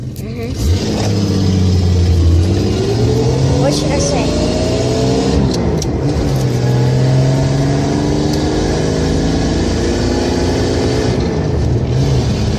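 An old DIY budget hot rod engine revs hard and steadily for several seconds, loud and close, its pitch rising and falling as the throttle opens, with people talking over it.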